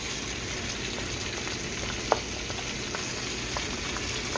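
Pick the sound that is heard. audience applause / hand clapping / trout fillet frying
trout fillet frying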